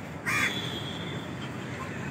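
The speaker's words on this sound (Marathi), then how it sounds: "एक कावळे वगैरे, चिमण्या वगैरे इथे पाणी प्यायला येतात." A single loud crow caw rings out in Hanuman Garden in Fort, Mumbai, beside a small birds' water pond, then fades into steady urban background hum.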